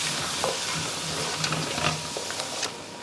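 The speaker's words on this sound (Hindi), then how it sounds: "अब हमें 3 से 4 मिनट तक इसे भूनना है हल्के आंच पे।" Ground spice masala of coriander, cumin and garam masala fries over low heat for dal mutton, a continuous close sizzle with a spoon scraping and stirring through it in steady strokes.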